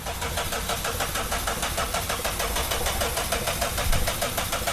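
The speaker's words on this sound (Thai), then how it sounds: "สตาร์ทนะครับไล่ระบบให้มันติดครับครั้งแรกก็จะติดยากนิดนึงนะครับ" A rebuilt car engine, just reassembled after repair work, turns over and runs with a steady rough mechanical chatter and faint knocking, loud and close throughout with no talking.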